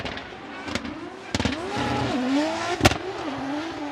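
A Toyota GR86 drift car's engine wails through a Formula Drift Japan run, the pitch sweeping up and down with throttle, broken by sharp bangs and pops, with a commentator talking over it.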